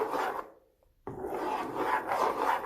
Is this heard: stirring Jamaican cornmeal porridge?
yes